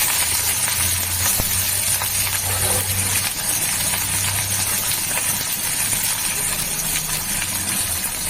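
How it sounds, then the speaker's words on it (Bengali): Onions frying in hot oil in a pan with cardamom, cloves and cinnamon, a steady close sizzle and hiss running throughout with a faint low hum beneath. "এবারে পেঁয়াজটাকে দিয়ে দিলাম।"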